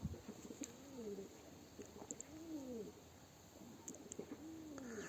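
Pet pigeons coo near a doorway in soft, repeated rolling calls that come in several separate phrases, fairly close and alone against faint background noise.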